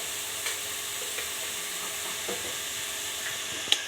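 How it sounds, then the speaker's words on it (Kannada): Onion paste with turmeric fries in a pan for egg gravy, a steady soft sizzle under faint occasional scrapes of a stirring spoon, with one sharper click near the end. "ಅದು ಚೆನ್ನಾಗಿ ಹಾಗೆ ತಿರುಗಿಸಿ ಕೊಡಬೇಕು"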